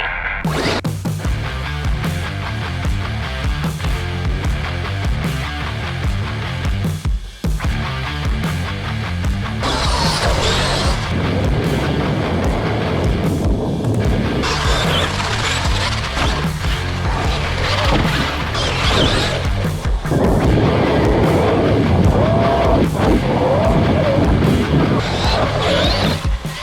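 A Traxxas X-MAXX RC car on Outcast 8S wheels drives hard, its loud motor whine and tire scrabble running continuously with bursts, surges and a brief dip, close and dense throughout.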